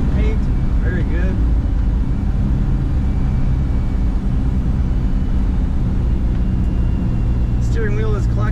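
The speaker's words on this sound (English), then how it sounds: "you do have a beautiful exhaust note rumbling out the back" A 1956 Chevrolet Nomad's exhaust rumbles in a continuous low, even drone, with brief bits of a voice near the start and end.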